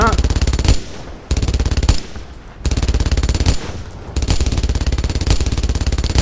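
Sustained machine gun fire from the Brothers in Arms: Earned in Blood World War II shooter, loud rapid bursts with brief lulls between them, close and dominant throughout.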